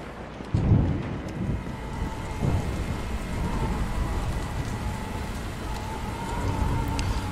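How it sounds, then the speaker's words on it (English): Steady rain falls with occasional low thunder rumbles in the Dying Light video game, a constant wash of drops on surfaces with no talking. "Oh, now it's raining."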